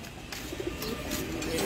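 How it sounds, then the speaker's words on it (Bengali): Racing pigeons coo in a loft, several soft throaty calls overlapping close by against a steady background hum. "এনে অল্প কিছু রেসার কবুতর আছে আমার"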